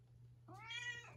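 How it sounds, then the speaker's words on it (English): A single soft, drawn-out meow from a cat indoors, faint and close against a low steady hum, with no talk during it. "There's the kitty."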